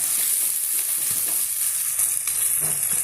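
Tomato masala for a fish curry sizzles steadily in hot oil in a pan, a loud continuous frying hiss with a faint stir or two.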